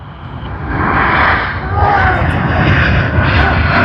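Heavy airliner jet engines roar at Sydney Airport, a loud, broad rumble that swells and holds steady at a distance as the aircraft powers up for takeoff.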